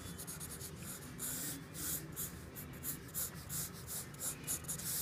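Pencil sketching on paper, a continuous close scratchy rubbing in quick back-and-forth strokes, steady in loudness with brief swells as strokes lengthen, no voices.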